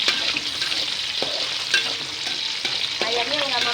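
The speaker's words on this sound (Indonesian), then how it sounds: "bumbu tadi udah Mama blender nih. Mama tumis ya." A blended spice paste sautés in hot oil, a continuous sizzle broken by stirring scrapes and clinks of a utensil against the pan, close and steady.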